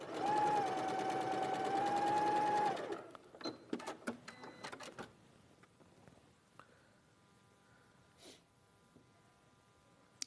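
A sewing machine runs in a steady, loud burst while stitching quilt triangles together for a large 2.24 m square quilt, then stops abruptly, leaving scattered clicks and light handling noises.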